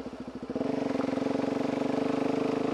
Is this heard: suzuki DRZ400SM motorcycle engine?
yes